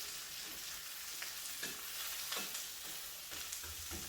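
A quesadilla cooks in a pan over lowered heat, giving a steady soft sizzle and frying hiss with faint scraping touches, no talking.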